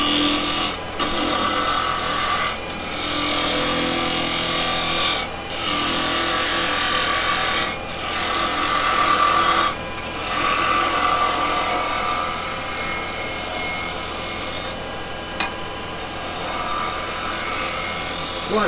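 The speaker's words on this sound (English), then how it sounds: "I'm just coming to that little push cut." Gouge push cut on a live edge ash bowl spinning on a wood lathe, using a 1 inch Spowl gouge, a continuous close rasping scrape with a few brief dips where the tool lifts from the wood.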